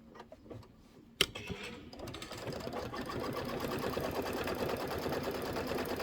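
A sewing machine runs a fabric tack-down stitch for a quilting project, starting with a sharp clunk and then settling into a steady, fast mechanical whir that continues to the end.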